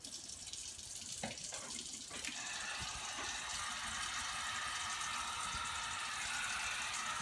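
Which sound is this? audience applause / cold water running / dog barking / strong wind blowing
cold water running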